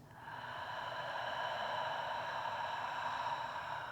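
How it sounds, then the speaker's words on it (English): A long, deep open-mouth exhale during a beginner morning yoga class for neck and shoulder pain, a steady breathy rush that lasts about four seconds, close and fairly quiet, with no talking. "And full breath out."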